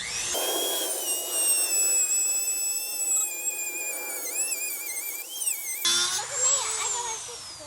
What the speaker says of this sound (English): Got this Dremel hooked up. Ready to rock and roll.